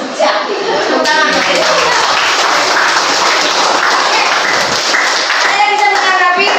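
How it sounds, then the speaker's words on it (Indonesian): A classroom of students claps hands together in a loud, close burst of rhythmic clapping, with children's voices calling out and chattering over it throughout. "Tepuk tangan."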